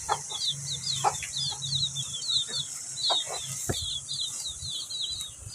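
Chickens and chicks cluck steadily at close range, with repeated high chick peeps running throughout and louder hen clucks breaking in every second or so over a low ambient hum.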